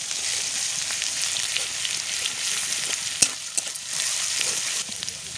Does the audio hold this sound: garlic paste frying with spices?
yes